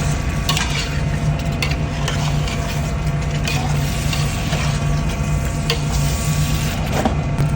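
Pork menudo with ketchup being stirred in a frying pan, with steady scraping and clinking of the utensil over a constant sizzle and hum, close and continuous with no talk.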